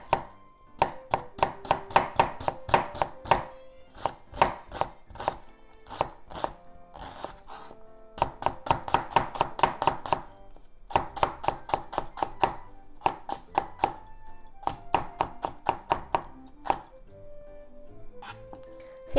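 Knife chopping ingredients for Japanese potato croquettes on a cutting board, sharp close taps in quick bursts of steady rhythm with short pauses between runs, clear and without talking.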